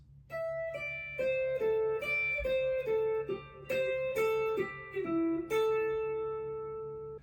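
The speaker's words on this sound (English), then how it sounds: "So we're essentially just descending the scale in a pattern" Electric guitar picks a pentatonic scale exercise, descending in a four-note pattern: a steady run of distinct, clearly articulated single notes stepping downward, close and alone with no talking.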